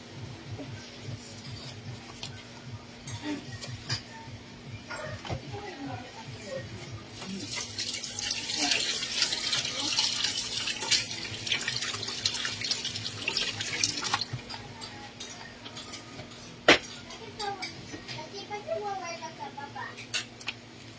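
Tap water runs into a kitchen sink while a salad platter is prepared, a broad steady rush swelling in the middle stretch and fading later, with dripping and background voices underneath.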